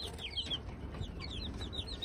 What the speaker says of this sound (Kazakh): Міне Кучинскийлердің балапандары, астаты қалғандары.